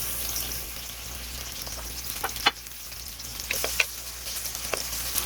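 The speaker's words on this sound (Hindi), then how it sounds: "इसमें हम एक मीडियम साइज़ का स्लाइस कटा हुआ प्याज शामिल कर देंगे।" Sliced onion sizzling and frying in about half a cup of hot oil in a preheated kadai, a steady crackling hiss with a few sharper pops and stirring scrapes, with no talking.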